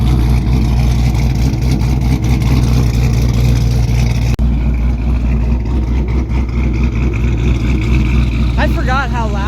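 Loud, steady low rumble of a supercharged 426 Hemi V8 engine heard from inside the car during a ride, droning continuously with a brief dip midway and faint voices underneath.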